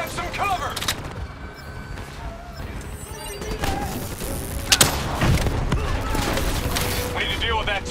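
Turret gunfire in the video game Call of Duty: Black Ops III, heavy booming shots and thuds mixed with battle noise, heard under shouted voices.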